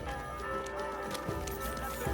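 Horse hooves clip-clopping steadily with a possible faint whinny in the video game Kingdom Come Deliverance 2, heard against a continuous ambient game soundscape with scattered muffled thumps.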